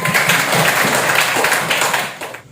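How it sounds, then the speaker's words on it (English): Classmates in a classroom applaud together, a dense burst of many small hands clapping fairly close and steady, then tapering off at the end. "Give applause to your friends."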